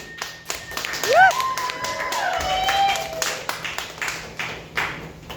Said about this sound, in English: Give a big round of applause for David Borowski